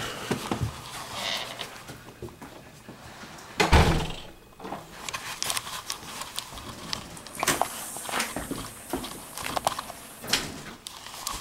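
A frozen screen door is opened into deep blizzard snow, with a loud thump and creak followed by footsteps crunching outdoors and scattered clatter nearby, with birds faintly in the background.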